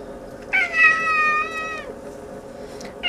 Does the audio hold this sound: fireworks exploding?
no